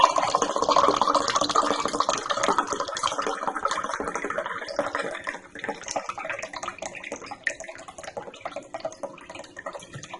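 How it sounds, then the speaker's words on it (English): Water pours from a freshly opened coconut into a container, a close continuous splashing trickle that thins and turns drippier after about five seconds. "Look how much water there is in a fresh coconut"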